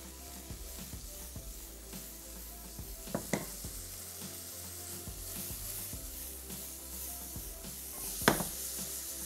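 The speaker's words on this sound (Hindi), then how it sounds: "इसको हमने फ्राई करना है" Vegetables with peas frying in a pan give a soft, steady sizzle with light stirring scrapes and a couple of sharper clinks, heard close but at low volume with no speech.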